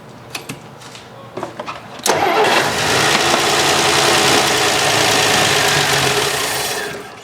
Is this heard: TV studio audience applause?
no